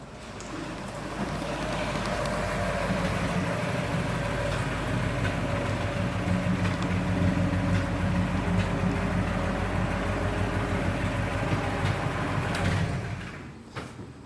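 A 1938 Ford Coupe engine idles close by in a steady, even rumble that holds for most of the stretch, then cuts off near the end, with no voices.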